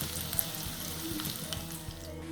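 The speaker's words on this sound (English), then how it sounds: "I'm shallow frying the dumplings." Steady close sizzle of chicken and lentil dumplings shallow frying in oil, a continuous hiss with soft crackles and occasional light knocks.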